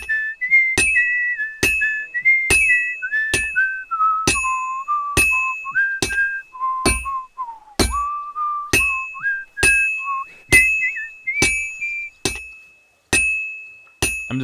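A character in Kingdom Come: Deliverance II whistles a wandering melody at a forge while a hammer rings steadily on an anvil, clear metallic clangs striking about once a second under the tune.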